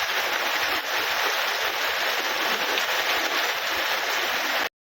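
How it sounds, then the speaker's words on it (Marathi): Steady, dense rain pouring down, a continuous loud wash of patter with no voices over it. "भरपूर पाऊस चालू"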